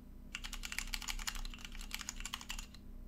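Rapid keystrokes on an OLKB Planck 40% ortholinear custom keyboard fitted with Cherry MX Red switches and XDA Canvas keycaps, a steady close-up clatter of many quick presses heard alone, with a low constant hum underneath.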